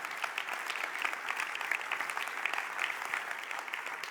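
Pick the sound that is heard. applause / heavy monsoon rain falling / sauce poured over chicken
applause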